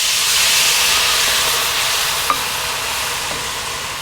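Dry white wine hitting melted butter and olive oil in a hot cast iron wok, a loud continuous sizzle and hiss with a brief clink partway through, fading slightly toward the end.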